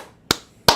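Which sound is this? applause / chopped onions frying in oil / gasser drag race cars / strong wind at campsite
applause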